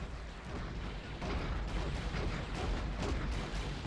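Exploding walkers in the strategy game Star Wars: Galaxy at War, a dense rumbling barrage of booms and crackling blasts that carries on throughout, fairly loud and distant-sounding, with no talking.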